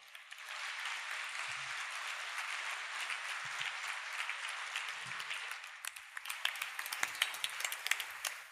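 A conference audience at the Total Chaos 2019 opening keynote applauds CEO Peter Mitev with steady, sustained clapping from a large crowd, turning into sparser individual claps toward the end.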